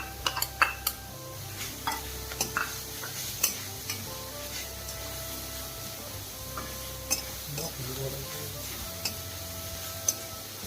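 Carrots and other vegetables are stir-fried in a pan over a high gas flame for veg momo filling, with soft sizzling under sharp, irregular clicks and scrapes of a spoon against the pan.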